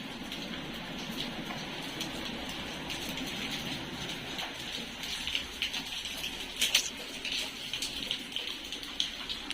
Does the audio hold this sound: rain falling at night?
yes